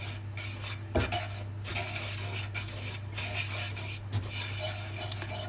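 Plain flour and ground flour are roasted together in a pan for paya/nihari, a soft steady scraping and stirring with two sharper clanks of a utensil against metal over a low hum.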